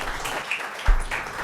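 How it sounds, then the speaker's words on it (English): Applause rises for elementary school students at a school governing board meeting, a brief burst of clapping from the audience with a soft thump partway through. "let's give these boys and girls a great big round of applause"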